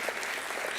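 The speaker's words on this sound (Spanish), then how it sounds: "poden aplaudilo tranquilamente" Audience applause at an engineering energy event in Galicia, a short, dense burst of steady clapping from a crowd.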